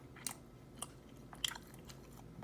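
Someone chewing a bite of a Krispy Kreme glazed cinnamon roll topped with Cinnamon Toast Crunch, soft close-up crunching with a few sharper bites scattered over quiet background.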